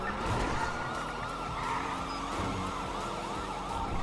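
Police car sirens wail in steady rising and falling sweeps in the GTA video game, loud and continuous over a low rumble of traffic, with no talk.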